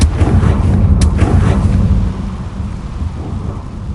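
Confringo blasting spell from Hogwarts Legacy on PS5, a heavy rumbling blast with a sharp crack near the start that settles into a lower, rolling roar, loud and up close.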